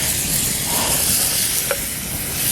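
Onions sizzle loudly in butter in a smoking cast iron pan at an outdoor bushcraft camp, a dense continuous hiss with one brief clink of a utensil partway through and no talk.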